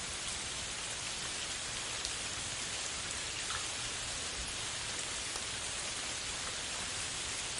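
Steady heavy rain pouring down, a dense even hiss of countless drops with no pauses and no voices.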